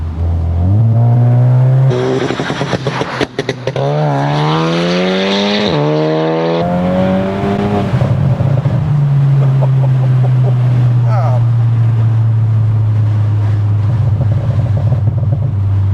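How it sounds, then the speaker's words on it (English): A loud Stage 3, 500 bhp Mk3 SEAT Leon Cupra R exhaust revs up and settles into a deep, rumbling idle, its pitch climbing and falling with each throttle blip. "That exhaust just sounds nuts."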